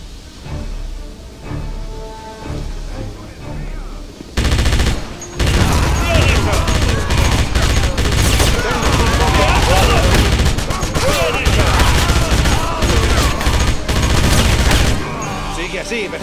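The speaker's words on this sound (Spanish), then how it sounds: "BJ, defiéndenos con la MG-42." MG-42 machine gun blazing in the Wolfenstein video game, long loud sustained bursts of rapid fire with explosions, while voices shout over the battle.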